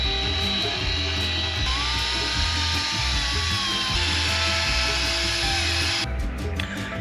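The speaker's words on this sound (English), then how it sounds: "And all we're doing is buffing it on." A power buffer spreads PTFE polish onto sailboat gelcoat, producing a continuous loud motor whine with a rhythmic pulsing drone and a slight shift in tone near the end.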